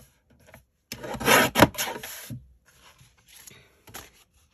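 A short, close swish of card stock being trimmed to size on a paper cutter, one main slicing pass followed by a few softer scrapes and taps, no talking.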